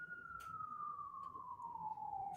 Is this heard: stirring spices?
no